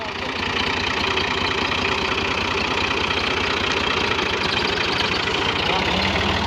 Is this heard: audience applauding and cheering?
no